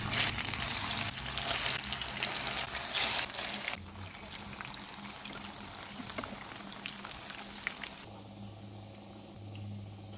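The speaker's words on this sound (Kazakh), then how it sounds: "Қызып тұрған майға екі жағын қуырып аламыз." Zucchini patties frying in hot oil give a steady, close sizzling hiss that softens partway through and then continues at a lower level.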